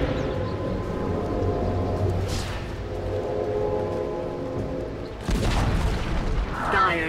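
A Dota 2 tower collapses mid-battle, a heavy booming rumble over dense game effects and music, with a louder crashing burst near the end.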